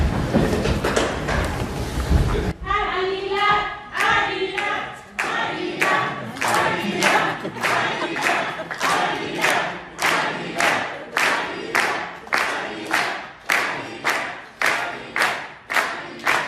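Rhythmic clapping from a crowd honoring a judge's career, steady beats roughly every half second, loud and close, preceded by a brief burst of noisy cheering.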